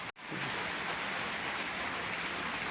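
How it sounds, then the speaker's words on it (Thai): Heavy rain pouring down outdoors on a route into Aranyaprathet, a loud dense continuous hiss that starts after a brief silence and stays steady throughout. "ฝนตกแหงเนาะ"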